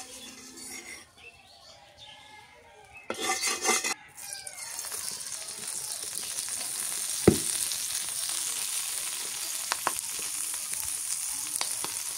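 Coral fish paturi wrapped in bottle gourd leaves frying in a pan, a steady close sizzle with occasional clicks after a brief burst of handling noise, with a rooster crowing faintly in the background.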